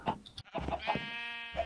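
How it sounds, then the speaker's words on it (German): A sheep bleats in the video game Minecraft, a wavering, close, clear bleat following brief voice-like sounds, with no other sound competing. "Oh, wie süß das Schaf ist."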